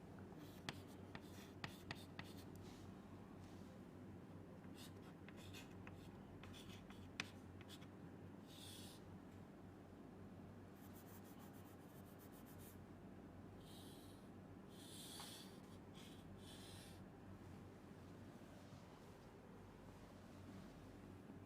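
A diagram for a VLSI circuit class is drawn by hand, giving steady soft scratching and scribbling strokes with occasional taps, close and quiet over a faint hiss, with no speech.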